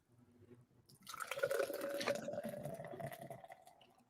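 A 5.6% American light lager being poured into a glass: a soft start, then about three seconds of steady, fizzy gushing and dripping that gradually tapers off. The sound is close but fairly quiet.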